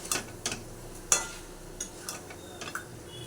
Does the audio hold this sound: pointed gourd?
yes